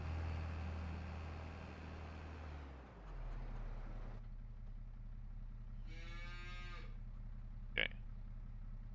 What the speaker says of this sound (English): the cows were deafening inside the cab